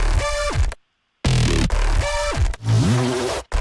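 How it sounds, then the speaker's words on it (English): Robotic, buzzy synth tones with harmonic stacks and gliding pitches, played in two loud bursts separated by a brief gap of silence. "I used a vocoder to add some color to it"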